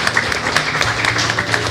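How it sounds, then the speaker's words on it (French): Brief burst of audience applause at a live podcast show, a dense patter of hands clapping close by for a short moment. "Est-ce que vous pouvez les applaudir s'il vous plaît?"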